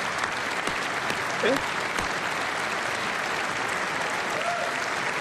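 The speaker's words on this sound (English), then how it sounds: "It's just clap fest." Sustained audience applause in a large hall at the 2026 State of the Union address, an even, continuous wash of many hands clapping with faint voices mixed in underneath.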